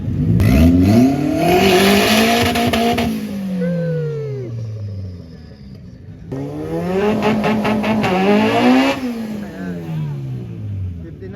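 Turbocharged drag cars launching at a drag strip, with two loud, close runs of engines revving hard through rising gear pulls and a tire squeal, the second pass after a brief lull, with crowd chatter underneath.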